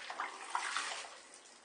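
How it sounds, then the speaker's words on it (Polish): Dirty water used to wash a car cabin pollen filter is poured out of a container, a soft, faint trickle and splash lasting under two seconds with no talking. "jeżeli wyleję tą wodę, to myślę, że będzie widać już wszystko"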